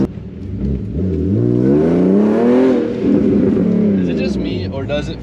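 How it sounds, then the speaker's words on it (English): A BMW E46 with a newly fitted Tilton clutch revs up close by, its engine note climbing to a loud peak and sinking back over a few seconds, with faint voices around it. "One thing we should check is how fast it revs up now with this clutch."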